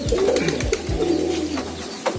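High-flying racing pigeons from Pekalongan coo loudly and close by, repeating soft throaty calls over a steady outdoor background.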